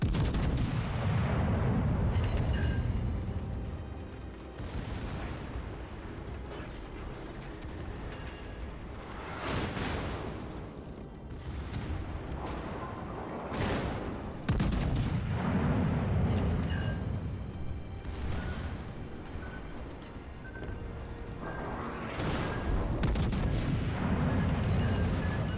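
Heavy warship guns boom repeatedly in World of Warships naval combat, loud salvos recurring every few seconds with rumbling low-end blasts that fill the whole stretch.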